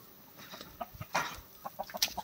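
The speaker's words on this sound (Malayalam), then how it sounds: "ചീറ്റം കൊണ്ട് വന്നതിന് കോഴി എല്ലാം കിടന്ന് കാറുവാ" Chickens cluck and squawk in short, irregular bursts close by, faint overall, with no voices.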